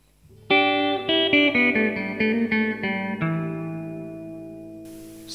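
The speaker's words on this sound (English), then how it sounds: "that was hall, this is now spring reverb." Electric guitar through a Yamaha THR5 practice amp with spring reverb: a quick run of plucked notes, then a held chord ringing out with a lingering reverb tail, loud and close, no talk.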